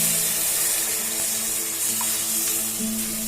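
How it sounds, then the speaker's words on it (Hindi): Water is poured steadily into ground, roasted bhat beans, giving a continuous, close hissing splash with a low hum underneath and no talking. "अब इसमें पानी डालते हुए"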